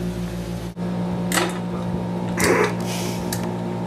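A room air conditioner in Cuba runs with a constant, close-up electrical hum, while a few short rustling and clattering bursts break through the drone.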